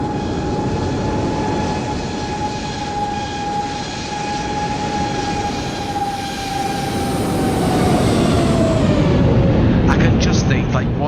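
A British Airways airliner at Heathrow in Microsoft Flight Simulator 2024 gives a steady, loud jet engine whine that holds its pitch, then slowly drops and swells louder toward the end, over a broad rushing roar.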